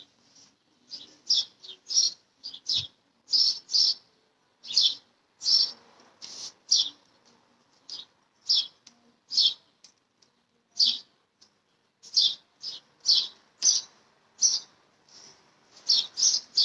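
Small birds chirp outdoors in a rapid, repeated series of bright tweets, close and clear against a quiet background, with no talking.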